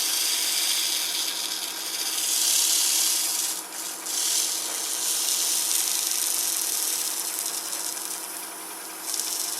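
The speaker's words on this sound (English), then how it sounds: "Now I'm getting finish come off with the sanding." Sanding the finish off a wooden piece with a power sander, a steady close abrasive whir and rasp running continuously, briefly easing and dipping around the middle before resuming.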